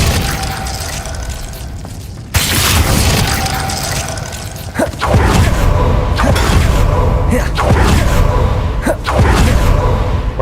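A Glacius freezing spell is cast during a Hogwarts Legacy duel, amid a loud, continuous stream of booming game effects with a sudden impact and repeated whooshing hits and thuds.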